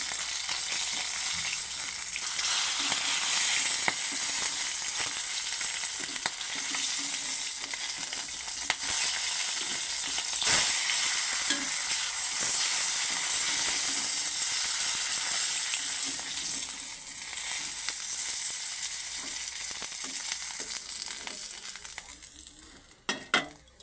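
Pieces of fish fry in hot oil for a fish kalia, giving a loud, continuous close sizzle with faint crackles throughout. A brief clatter comes near the end.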